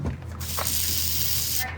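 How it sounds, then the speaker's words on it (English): WD-40 being sprayed onto a squeaky gate: a steady close hiss from an aerosol can lasting over a second, with a faint low hum underneath. "WD-40. That stuff will stop a squeaky gate temporarily."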